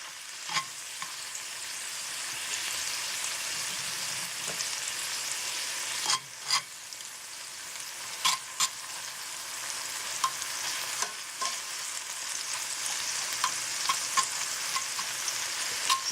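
Garlic sautes in a hot, heat-retaining pan with a steady bright sizzle, broken by occasional sharp scrapes and clicks of stirring, close and alone without talk.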